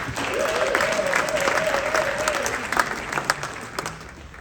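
Audience applause for a presenter taking the stage at a holiday gala and awards night, dense and steady clapping that thins out toward the end, with a voice briefly audible over it.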